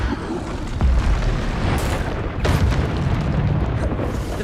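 Bombarda spell explosions in Hogwarts Legacy hit as loud, deep booms, two or three heavy blasts with rumbling tails over dense battle noise.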